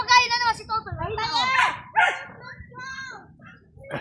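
Dogs bark and yelp in excited bursts close by, high-pitched and uneven, with some whining between barks.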